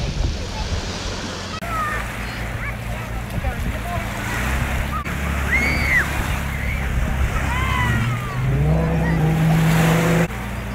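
Waves wash and slosh continuously along a beach, with wind, children's voices and a motorboat engine droning underneath, getting louder toward the end.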